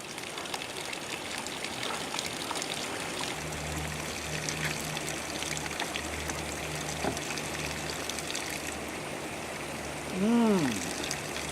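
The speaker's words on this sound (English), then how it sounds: "Here's another of these natural fountains coming right out of the rock" Natural spring water pours out of rock on a high mountain pass, a steady soft trickling and splashing stream, with a low hum underneath and a brief louder bump near the end.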